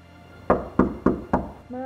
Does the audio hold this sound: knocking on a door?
yes